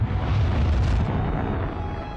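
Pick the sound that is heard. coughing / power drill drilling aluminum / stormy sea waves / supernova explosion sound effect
supernova explosion sound effect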